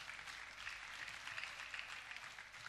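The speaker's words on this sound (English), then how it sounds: "a round of applause for them," Faint, steady applause from a conference hall audience at an accountants' closing ceremony, an even distant patter of many hands with no talk over it.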